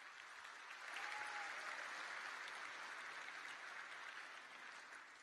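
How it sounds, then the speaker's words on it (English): Award winners at a sports awards banquet receive a steady, dense round of audience applause, heard from a distance as a continuous wash with no distinct individual claps. "Let's give them one more round of applause, please."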